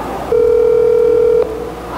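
A telephone ringback tone while a call is being placed, one steady electronic beep held for about a second before cutting off, loud over a faint room hum.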